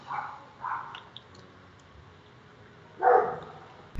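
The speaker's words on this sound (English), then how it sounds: "Sounds like your dogs are having a party." A few dogs bark in short bursts somewhere off in the background of a room, two quick barks close together near the start and one louder bark a few seconds later.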